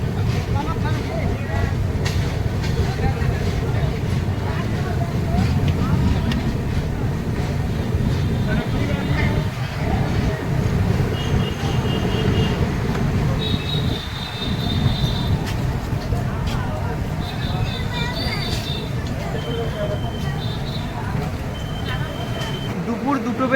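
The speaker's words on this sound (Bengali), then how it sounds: "দুপুর 2:10 ট্রেন এসে পৌঁছালো পাকুড়।" As the Karmabhoomi Express comes to a stop at Pakur station in Jharkhand, a heavy, steady carriage rumble fills the scene, with short high tonal beeps and muffled voices mixed in.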